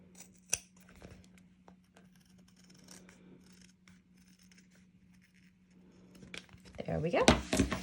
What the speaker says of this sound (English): And then we will grab our scissors